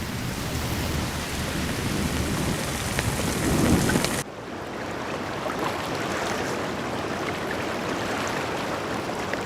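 Typhoon rainstorm at sea, heavy dense rain roaring loudly with a deep thunder rumble swelling over the first four seconds, then rain continuing alone at a slightly lower level.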